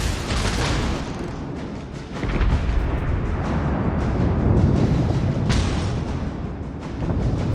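High-explosive shell fire in the naval game World of Warships Legends: continuous rumbling booms and cannon blasts rolling over one another, dense and loud throughout, with brief dips in intensity around the second and fifth seconds.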